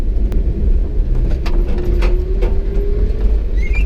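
A Japanese mini truck driving along a rutted old railway bed turned ATV trail, with a loud close engine drone, rattling and clunking over bumps, and a faint rising whine.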